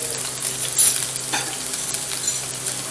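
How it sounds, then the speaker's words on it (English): Salmon fillet searing in a hot pan, a steady close hiss of frying with one brief louder crackle, no voices. "you're going to cook this a couple of minutes aside to get a good sear on it"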